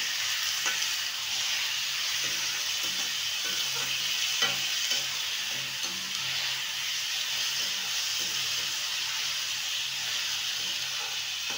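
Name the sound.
meat frying and being stirred in a pan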